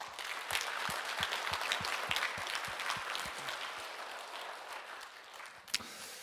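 A church congregation at a Sunday service claps together, a steady wash of applause that carries on for several seconds and gradually thins out.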